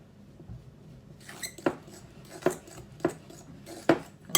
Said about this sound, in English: So I'm just going to break this butter up into the flour first.